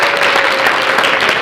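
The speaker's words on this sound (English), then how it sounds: "So again, can we give them a round of applause?" A graduation audience claps loudly for the graduating fathers of a parenting program, a brief, dense wash of applause without any talking.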